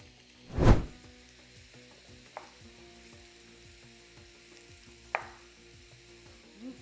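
Leeks and grated garlic sautéing over medium heat in a pan, a quiet steady sizzle with a loud clatter near the start and two sharper knocks later.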